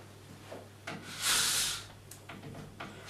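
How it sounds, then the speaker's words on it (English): Plastic scraper dragged in a long stroke down a waxed ski or snowboard base toward the tail, a rough broadband rasp swelling loud for about a second between quieter scuffs and handling noises. "we're going to scrape it all the way down"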